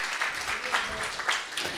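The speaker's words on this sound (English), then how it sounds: "a round of applause for all the staff here, please" Audience applause for the staff at a downtown Santa Monica town hall meeting on homelessness, a dense, steady clapping from a crowd filling the room, fairly loud and continuous throughout.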